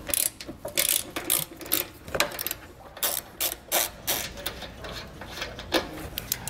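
Ratchet wrench clicking in quick repeated bursts while removing nuts from studs on the front side of a rear impact bar, during a Draw-Tite Max-Frame trailer hitch install on a 2021 vehicle; close, crisp and alone.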